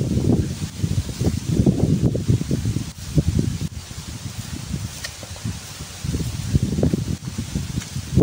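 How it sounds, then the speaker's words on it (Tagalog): Strong wind gusts roar and buffet steadily across a coconut plantation, rising and falling, with a rustling, blustery rush throughout and no voices. "Sobrang lakas nga pala ng hangin."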